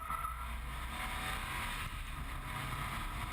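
Engine of a 2010 Subaru Impreza WRX STI with four exhaust outlets, a steady loud drone with broadband road and wind noise, continuous and unbroken throughout.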